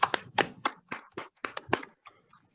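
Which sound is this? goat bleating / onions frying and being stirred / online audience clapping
online audience clapping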